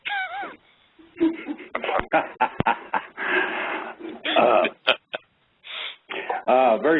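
Dogs whimper, whine and pant in short, close bursts, broken by brief gaps, with speech-like yelps mixed among the sounds.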